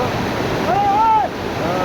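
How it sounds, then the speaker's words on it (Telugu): A waterfall near Raigad Fort gives a steady, loud rushing roar throughout, with a brief whistling, voice-like tone rising and falling over it around the middle. "వాటర్ ఫాల్స్ చాలా చక్కగా ఉన్నాయి."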